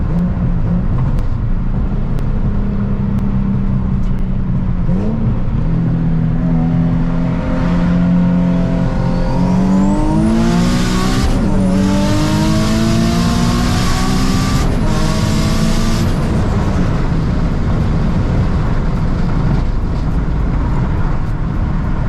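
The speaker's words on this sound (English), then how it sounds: "I do want to do a quick little pull, just to make sure the intake is all good and the car's boosting" A Nissan 350z accelerates hard through a full pull on a road, engine droning loudly and rising in pitch through the run with brief dips at gear changes, steady and close throughout with no talk.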